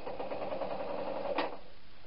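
A sewing machine runs steadily for over a second, stitching the ends of a knitted needle case together with a narrow seam, then stops, leaving quiet room tone.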